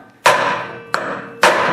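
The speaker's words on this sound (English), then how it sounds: "use a brass hammer and just basically tap it" A brass hammer strikes a piece of hardwood set against a snowblower auger gearbox shaft, three sharp, fairly loud blows spaced unevenly, each ringing briefly before the next.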